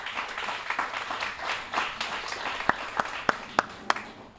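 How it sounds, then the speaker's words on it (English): Crowd applause at a charity gala dinner, a moderate wash of clapping with several sharp, distinct claps near the microphone toward the end, no voices over it. "Let's give them a round of applause."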